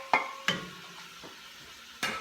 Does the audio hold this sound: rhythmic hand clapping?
no